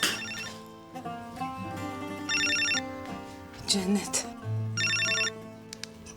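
A telephone rings in repeated electronic bursts in a home, over soft background music, while someone speaks briefly between the rings.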